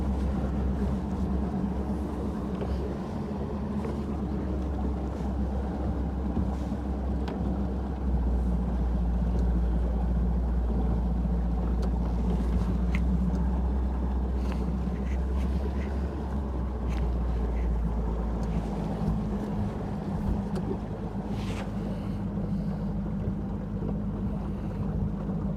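A fishing boat's outboard motor drones steadily while cruising over a lake during bass fishing, a constant low rumble with wind and water hiss, close and continuous throughout with no talking.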